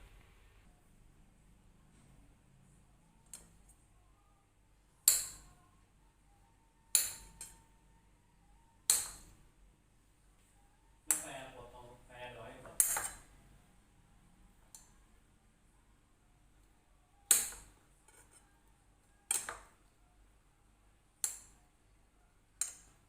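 Knife cutting fruit for rujak on a board, a series of sharp, separate chopping taps at irregular intervals, fairly close but quiet, with no voices.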